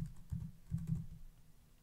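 Fingers type on a computer keyboard in a short run of soft, close, irregular clacks with a few denser bursts, and no one speaks.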